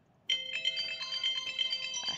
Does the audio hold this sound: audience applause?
no